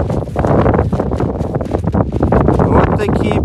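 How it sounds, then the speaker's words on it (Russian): Strong mountain wind at night on Payer in the Urals buffets the microphone in loud, continuous gusts, with a rough rumbling roar throughout and no letup. "очень сильный ветер"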